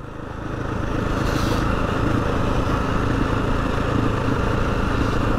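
A light Husqvarna FE 350 dirt bike rides along, its engine note swelling in the first second and then holding a steady, close buzzing drone with no talking.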